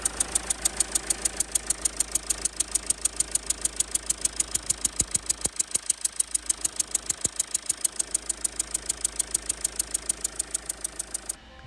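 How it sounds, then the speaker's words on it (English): A high-mileage Mercedes diesel engine idles with a leaking, chuffing injector, giving a steady, close, rhythmic knocking pulse that stays even throughout and is heard alone. "And one, just one of these injectors is chuffing."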